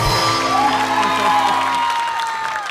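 An audience claps and cheers at a talk show, a loud burst of applause with whoops and shouts that gradually thins out toward the end.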